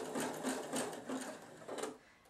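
A sewing machine stitches a corded fabric bowl in quick bursts of rapid needle chatter, about five short runs with brief pauses between, close and steady, with no voices.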